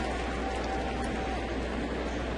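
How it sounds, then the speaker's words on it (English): Rain begins falling at Busch Stadium during a Cardinals baseball game against the Cubs, a constant wash of noise under a low broadcast hum, with no clear voices over it. "as the rain starts to fall here at Busch Stadium."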